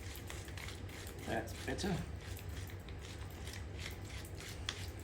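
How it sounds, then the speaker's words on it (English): A pepper grinder is twisted over a beetroot tart mixture, giving a faint, gritty grinding crunch in short bursts under steady kitchen background noise, while a person speaks briefly. "We add a nice grind of pepper."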